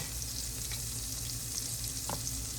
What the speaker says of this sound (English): we don't want them frying too much